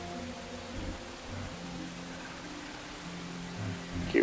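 Steady rain falls in the survival game Enshrouded, a continuous soft wash of patter with low rumbling beneath, holding at an even level with a brief louder burst near the end.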